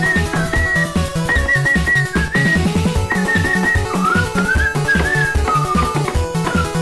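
Recorded whistling in the video game Amnesia, a melodic tune whistled over a rhythmic tapping accompaniment, loud and continuous with no talk.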